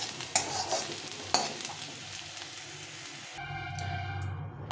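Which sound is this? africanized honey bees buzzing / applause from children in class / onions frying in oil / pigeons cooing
onions frying in oil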